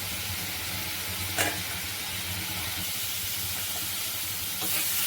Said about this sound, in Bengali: আলুগুলোকে একটু ভালো করে কষবো, তারপরে জল দেবো।